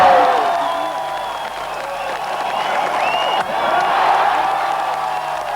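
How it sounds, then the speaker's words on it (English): A large crowd in West Berlin at the wall shouting ecstatically, a dense roar of many voices with whoops and cheers, sustained and fairly loud throughout. "Watching from West Berlin as they've done for several hours, the crowd shout ecstatically, "We're coming.""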